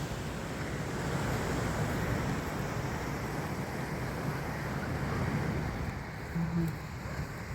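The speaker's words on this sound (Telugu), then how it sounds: "వైజాగ్ పోర్ట్, ఇది ఆర్కే బీచ్." Waves roll in at RK Beach in Vizag in the early morning, a steady broad surf roar with wind noise buffeting the microphone throughout and no clear breaks or voices.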